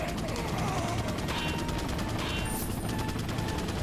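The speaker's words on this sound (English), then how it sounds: "Somebody's shooting at me." Rapid gunfire rakes toward the player in Resident Evil 4, a dense, steady barrage of shots running the whole time over a busy game soundscape.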